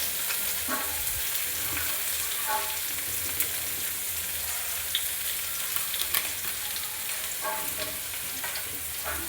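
Salt, turmeric, cumin powder, red chilli powder, ginger and green chilli paste fry in a pan for a jackfruit dish, a steady moderate sizzle with intermittent stirring scrapes.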